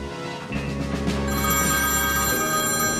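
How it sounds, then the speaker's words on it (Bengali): A landline telephone bell rings continuously in a home, a bright, insistent trilling that starts after a short low hum and stays loud and close with no talk. "কেউ যখন ফোনটা ধরতেছে না, এতক্ষণ ধরে বাজতেছে, আমি যাই ফোনটা ধরতে"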